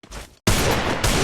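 A short burst of video game gunfire lands a headshot, a brief shot followed by a dense, loud rattle of rapid fire.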